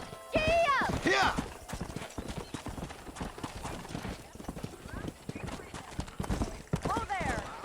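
Galloping horse in Red Dead Redemption, steady clip-clop hoofbeats running throughout with occasional whinnies, mixed under shouting and talk from riders.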